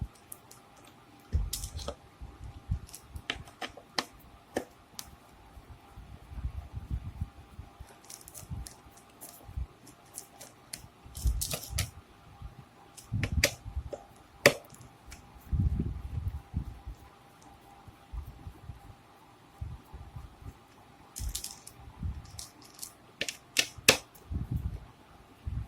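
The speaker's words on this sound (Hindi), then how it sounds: "4 स्क्रू ऐसे करके आप खोल लीजिए" Screws being unscrewed one by one from the back panel of a Creative SBS370 2.1 speaker system, heard as irregular small clicks and ticks with low thumps from handling the plastic casing, close up and with no talking.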